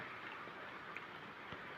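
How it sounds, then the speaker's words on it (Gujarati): Steady rain falls during an outdoor cricket game in wet weather, a continuous soft hiss with a few faint drops standing out, no voices heard. "મિત્રો વરસાદ ચાલુ થઈ ગયો છે"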